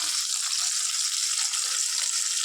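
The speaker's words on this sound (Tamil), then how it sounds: "மிளகாய் கழுவி வச்சுக்கோங்க." Tap water runs steadily into a sink while chillies are washed for a spicy chutney, a constant close hissing flow with no pauses.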